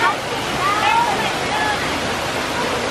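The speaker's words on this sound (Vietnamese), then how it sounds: "thời điểm này đổ nước thác cũng lớn" Thác Hiêu waterfall pours in the low-water season with a loud, steady, close broadband roar of falling water. Faint high tones rise briefly over it.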